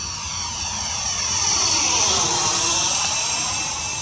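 A Freewing MiG-21 model jet passes overhead at a flying field in Wakapuaka, New Zealand, its steady high whine and rushing roar swelling as it comes closer, then easing slightly.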